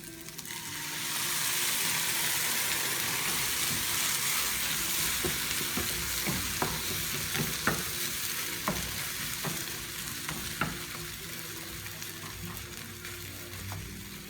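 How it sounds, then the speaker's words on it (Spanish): Salsa pours into a hot frying pan for huevos al albañil and hits with a loud, steady sizzle, punctuated by sharp clicks and scrapes of stirring. "Vamos a agregar la salsa."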